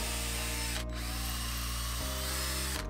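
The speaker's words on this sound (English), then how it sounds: "that's my six holes drilled in three pieces of wood, the softwood, the birch plywood and the MDF" A power drill bores holes into softwood, birch plywood and MDF, whining loudly and close with brief pitch drops as the bit bites and eases.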